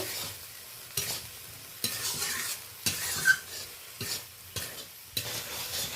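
Ground spices with Kashmiri red chilli powder are stir-fried in a pan: a low sizzle under a spatula scraping in repeated strokes about once a second, close and alone.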